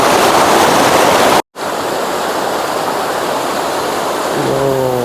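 Loud, steady roar of a clear flowing river at a camping area at Ranca Cangkuang, Bandung, a continuous broadband rush close by that cuts out briefly near the start, with faint tonal hum at the end.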